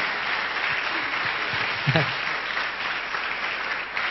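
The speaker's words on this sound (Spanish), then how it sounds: "¿Qué le parece si le damos un fuerte aplauso al Señor?" Steady, loud applause from a large crowd at a religious testimony gathering, a continuous wash of clapping with a brief low thump near the middle.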